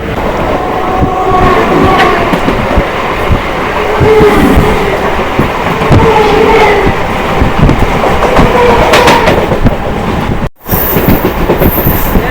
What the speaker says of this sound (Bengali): গাড়ি এখন প্রচুর জোরে টানছে ভাই